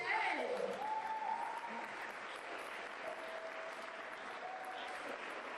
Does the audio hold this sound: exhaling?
no